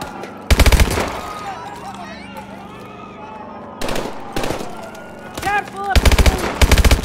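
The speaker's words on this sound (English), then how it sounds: "Careful of the shooting!" Bursts of automatic gunfire in a video game, loud rapid clusters of shots interrupted by quieter stretches of game sounds and voices.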